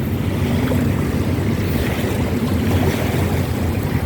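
A small tug boat works on a river, pushing a large barge from behind; its engine rumbles steadily under broad water wash and wind noise that fill the whole stretch.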